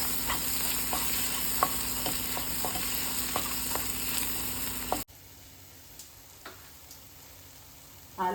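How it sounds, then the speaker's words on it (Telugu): Mashed potato being stirred and fried with browned onions in a pan for aloo paratha curry: a continuous sizzle with light scraping ticks that drops much quieter halfway through, leaving faint crackles. "ఇలా ఆలుగడ్డని మంచిగా మిక్సీ చేసుకుందాం"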